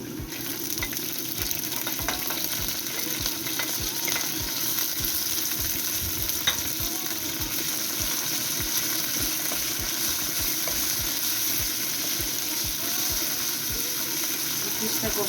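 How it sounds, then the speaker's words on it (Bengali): Rice grains, bay leaves, chopped garlic and dried chillies crackle in hot oil over low heat, a dense continuous sizzle with rapid tiny pops and occasional stirring scrapes. "চেষ্টা করবা জাল কমিয়ে একটু মশমশা করে ভাজতে"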